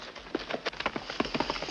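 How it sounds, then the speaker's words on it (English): Horse hooves clip-clop at a stable in a 1954 Western film, a brief series of close, uneven hoofbeats with little else over them. "Boone, my horse is in the stable"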